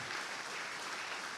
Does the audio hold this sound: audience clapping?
yes